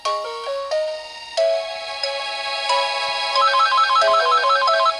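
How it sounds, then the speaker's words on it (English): Electronic video-game phone ringtone from Dragon Ball Z: Buu's Fury, a loud chiptune melody of stepping tones that shifts into a rapid warbling trill, playing alone. "Phone calls."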